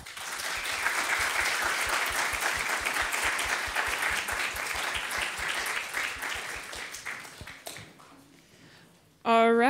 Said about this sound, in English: another round of applause for Grace